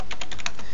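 Quick burst of crisp keystrokes on a computer keyboard while entering a network switch configuration command, about seven close, evenly spaced clicks in under a second.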